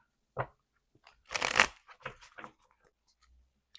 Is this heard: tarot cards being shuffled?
yes